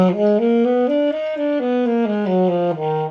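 A harmonic minor scale played note by note on a melodic instrument, a steady stepwise run up and back down, clear and close with no voices.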